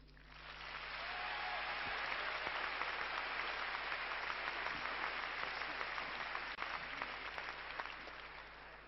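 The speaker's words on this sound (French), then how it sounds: "je pense qu'il faut beaucoup l'applaudir" A tennis crowd at an ATP tournament applauds Yannick Noah, a broad sustained wash of clapping that swells in over the first second, holds steady with scattered sharper claps, and eases slightly near the end.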